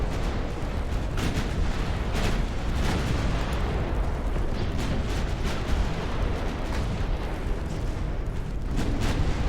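Naval battle in the Ultimate Admiral Dreadnoughts video game, a British 1900 campaign, with ship gunfire and torpedoes: a dense, continuous roar of booming artillery and rumbling explosions, with sharper blasts cutting through at irregular intervals.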